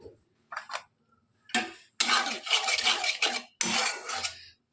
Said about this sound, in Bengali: আমি এখানে খুব ভালো করে নেড়ে নিলাম